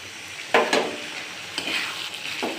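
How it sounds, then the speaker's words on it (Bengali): Onions frying with a ground paste of ginger and green chilli being stirred in a pan, a soft sizzle with a few sharp scraping strokes of the spoon, no voices. "এখানে এই আদা আর কাঁচা লঙ্কা আমি এখানে দিয়ে দিলাম"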